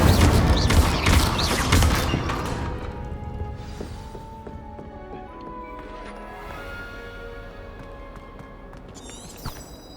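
The Incendio fire spell from Hogwarts Legacy: a loud burst of rapid crackling impacts at the start that rolls into a fading roar and tail, with faint chimes near the end.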